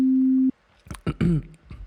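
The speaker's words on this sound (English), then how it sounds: "it's a sine wave that's around 200 something hertz" A pure sine-wave tone near 200 hertz, used to demonstrate FM synthesis, holds steady and loud for half a second, then cuts off abruptly before a voice starts talking.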